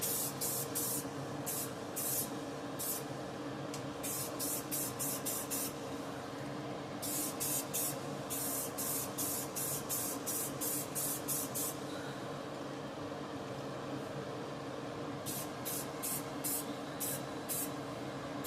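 Short bursts of aerosol spray paint hiss onto a toy tractor in even coats, coming in quick repeated passes with brief gaps, fairly close and steady against a low background hum.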